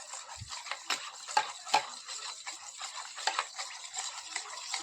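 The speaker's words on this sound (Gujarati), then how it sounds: "હવે એને આપણે સરસ મિક્સ કરી લઈશું." A spoon stirs custard powder mixed with liquid in a bowl, making soft, quiet scraping and light clinking taps that repeat irregularly, close to the listener.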